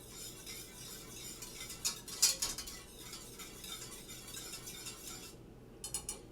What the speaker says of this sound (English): And we are going to heat that on a medium heat. Going to just stir it.